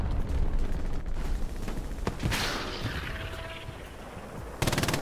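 A machine gun in Hell Let Loose fires sustained, rapid bursts up close amid a loud battlefield din, with continuous rattling and scattered louder shots.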